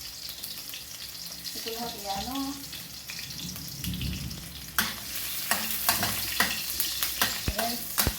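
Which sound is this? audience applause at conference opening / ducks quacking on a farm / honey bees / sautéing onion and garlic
sautéing onion and garlic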